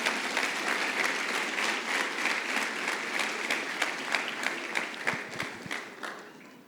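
A church congregation applauds during a sermon, a full, continuous wash of clapping that holds steady and then thins out toward the end.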